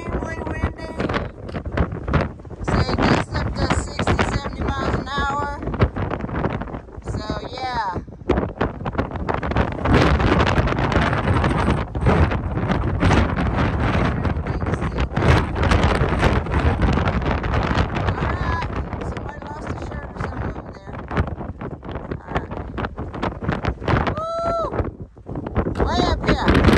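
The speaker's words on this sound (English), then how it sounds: "It's extremely windy." Strong gusting wind buffets the microphone on an exposed mountain ridgeline, a loud, continuous roar with surges and brief lulls, and people can be heard talking intermittently under the noise.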